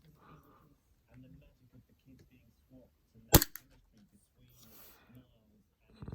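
A gas-powered airsoft Glock pistol fires a single sharp, loud crack with a short mechanical clack after it, while someone talks quietly before and after the shot.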